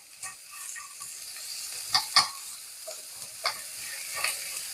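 Anchovies stir-fry in a pan with a soft, steady sizzle, broken by several sharp scrapes and clatters of a utensil stirring them.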